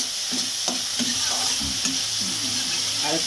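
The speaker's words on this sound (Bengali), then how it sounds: "এবার সবগুলো মশলা আমি ভালো করে ভেজে নেব।" Spices frying in oil for a Bengali rui fish curry, a steady loud sizzle with scraping stirring strokes of a utensil against the pan throughout.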